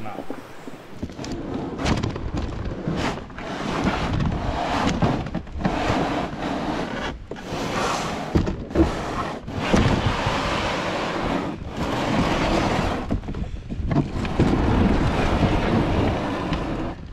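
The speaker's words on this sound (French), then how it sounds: "Petit vent de face." Gusty headwind buffets the microphone while canoeing on the Batiscan river, with rushing bursts and water sounds rising and falling irregularly throughout.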